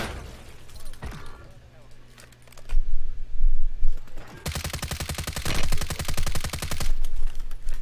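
Rapid machine gun fire bursts through a Call of Duty Warzone match, loud crackling strings of shots in separate volleys with pauses between, some distant pops, and gamers talking over the action.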